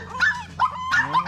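A young puppy gives short whining yips and whimpers, a few close, high-pitched cries in quick succession.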